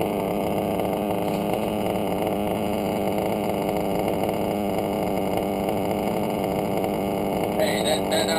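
A modified Novarossi P5XL nitro RC engine with an RCR part idles steadily, a continuous buzzing drone that stays close and loud the whole time.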